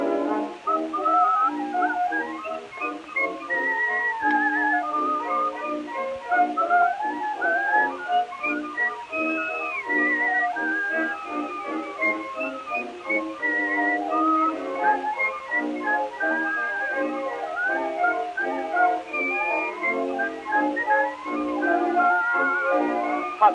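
A whistled melody from an old recording carries a lively, bouncing tune with steady phrasing, loud and close, running continuously without any talk.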